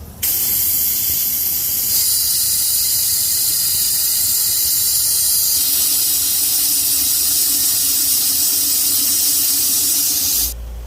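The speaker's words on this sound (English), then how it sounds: "Pour that coolant, I mean." Coolant pouring from a 2000–01 Nissan Maxima engine during knock sensor replacement, a loud, continuous splashing hiss of liquid that runs steadily for about ten seconds and stops abruptly at the end.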